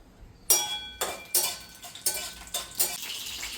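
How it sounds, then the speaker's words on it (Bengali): Dry red chilli and whole black mustard seeds tempering in hot mustard oil: a series of about six sharp, crackling bursts at roughly half-second intervals, with utensil stirring and light clinks between them, close and fairly loud. "ফোড়নে আমি দিয়ে দেবো একটু শুকনো লঙ্কা আর কয়েকটা গোটা সর্ষে, কালো সর্ষে"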